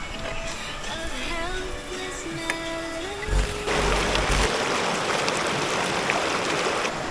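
A river rushes near a campsite, giving off a steady broadband wash that grows fuller and closer midway. Faint voices and a whistling tone ride over the water early on.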